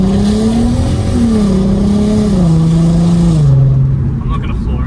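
A 2008 Volkswagen Golf R32 Mk5 with a full titanium custom exhaust, the engine note drawn out in a loud, steady drone that slowly falls in pitch as the car cruises, with a person speaking over it before it fades near the end.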